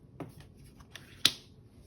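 Tarot cards are handled and drawn during a reading. Soft shuffling rustles and small flicks lead up to one sharp, close card snap, all in a quiet room without speech.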